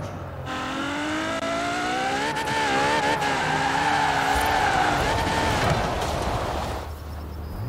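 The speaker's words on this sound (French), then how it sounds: "moi je vais faire du drift avec ça" A car drifts in a video game, its engine holding a steady rising whine while the tires squeal in a long continuous skid lasting several seconds, loud and close.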